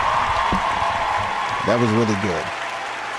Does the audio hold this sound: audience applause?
yes